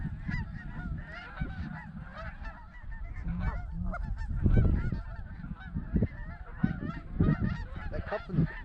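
Geese honking during a goose hunt, a dense flock calling continuously with overlapping honks near and far, punctuated by a few louder thumps.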